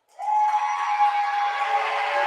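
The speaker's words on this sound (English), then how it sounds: "And we've got a whistle" A referee's whistle at a high school volleyball match sounds one long, loud, steady blast that holds for about two seconds with no talk over it.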